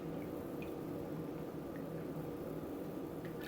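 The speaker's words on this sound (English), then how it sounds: "I go ahead and just submerge my fabrics all the way down into the tea." Fabric is pressed down into a pot of tea, a steady wet sloshing and squishing with faint drips, close and continuous.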